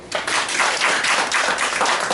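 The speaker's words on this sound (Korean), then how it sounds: "우리 근우한테 박수." A church congregation claps during a Sunday worship service, a burst of brisk, fairly loud applause starting abruptly and continuing evenly without talk.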